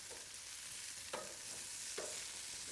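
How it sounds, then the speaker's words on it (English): Potatoes and bratwurst fry in a wok on a barbecue, a soft constant sizzle broken by a couple of brief scraping stirs, faint and close. "Potatoes are browning. The bratwurst is cooking."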